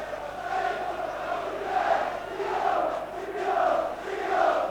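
A large football crowd of nearly 24,000 at Dens Park for the 1988 Scottish League Cup Final between Rangers and Aberdeen roars in swelling, rhythmic waves of chanting, distant and continuous.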